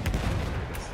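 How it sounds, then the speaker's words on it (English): Enemy artillery fire in the video game Battlefield 1, a single heavy, booming blast with a rumbling low-end tail, loud and close, with no voices over it. "Enemy artillery."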